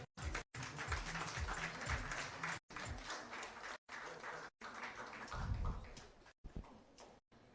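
An audience at a doctors' event claps, a quiet, even patter of many hands. The sound cuts out in several brief gaps.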